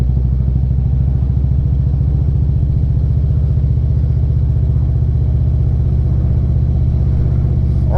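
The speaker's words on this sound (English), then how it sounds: "Look at the traffic here." Steady low engine drone of a ridden 2020 Indian Challenger motorcycle moving through busy road traffic, a continuous close rumble with faint clatter, no talking.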